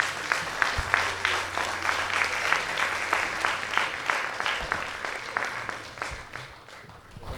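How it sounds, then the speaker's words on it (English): An audience claps after a performance, moderately loud and slightly distant, a steady patter of hands that gradually tapers off. "I think that needs another round of applause."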